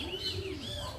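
Racing pigeons coo and chirp in a steady, continuous chorus, fairly close and filling the whole moment with no talking over them.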